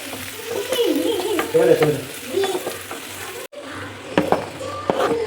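Curry leaves and green chillies crackle and sizzle in hot oil for a chicken curry, with vigorous scraping and stirring in the pan and a brief pause partway through.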